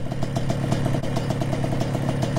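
A small racing kart engine runs steadily at a fast idle, its rapid mechanical pulses close and loud with a light metallic clatter throughout.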